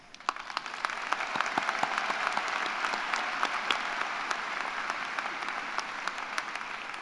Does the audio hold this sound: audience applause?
yes